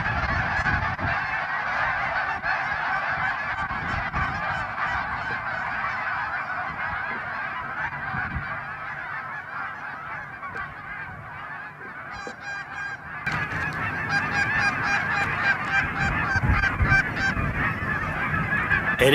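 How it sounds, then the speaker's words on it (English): A flock of geese flies in to land during a goose hunt. Many overlapping honks carry over open ground, growing louder and denser as the birds come closer. "Just as the first big flock of geese come in, fixing to land them"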